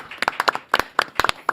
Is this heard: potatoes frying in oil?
no